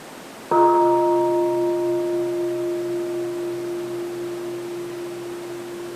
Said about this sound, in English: Let's enjoy the sound of the bell.